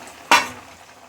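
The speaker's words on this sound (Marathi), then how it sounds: "आता बाकीचे फ्राय करायला टाकूया" Vegetable cutlets hit hot oil over a medium gas flame with one sudden sharp sizzle that quickly fades into a faint, steady crackle.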